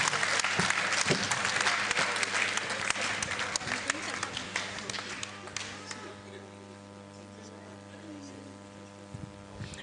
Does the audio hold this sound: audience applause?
yes